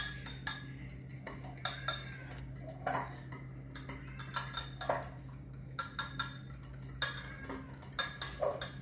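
A utensil clinks rhythmically against a bowl while eggs are beaten for nutmeg muffin batter, with quick clustered taps that come in short bursts and pause now and then.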